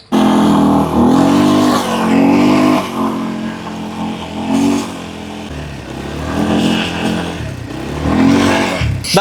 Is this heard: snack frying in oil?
no